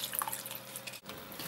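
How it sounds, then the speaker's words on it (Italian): Water poured into a bowl to soak dulse seaweed for a raw seaweed soup gives a soft, thin trickle and faint splashing, quiet and close, with a short pause near the end. "possiamo versare l'acqua per ammollare le dulce"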